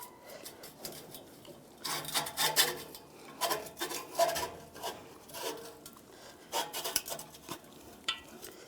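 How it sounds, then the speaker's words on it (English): Metal exhaust tip being worked back and forth over the tailpipe of a 2007-2013 Chevy Silverado, giving faint, irregular bursts of scraping and rubbing in short clusters, close by with no voices. "take the new exhaust tip and slide it over the muffler, over the tailpipe. You can slide this on first, and then just work this back and forth"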